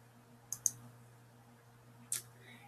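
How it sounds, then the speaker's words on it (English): Computer mouse clicks made while drawing dots on a map: a quick double click, a pause, then a single click, faint and close over a low steady hum. "You make the dots just simply by clicking in little strokes all over your map."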